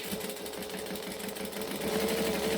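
A sewing machine stitches a bangle dangle at a joining stitch length, a close, steady rapid whirr with a regular mechanical chatter that stays even throughout and grows slightly louder near the end.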